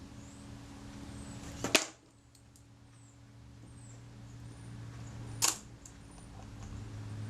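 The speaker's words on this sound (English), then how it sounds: "It was me just releasing the shutter." Two crisp mechanical clicks from the shutter release of a Retina IIa camera, a few seconds apart, close and quiet against a low steady background hum.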